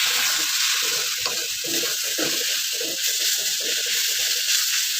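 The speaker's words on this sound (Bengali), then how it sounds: "জাস্ট একটু হাই ফ্লেমে এটাকে ভালো করে একটু নাড়াচাড়া করতে" Potato momo filling sizzles and scrapes in a pan over high flame as it is stirred, a steady broadband frying hiss with repeated spoon-scraping textures throughout, close and fairly loud with no talk.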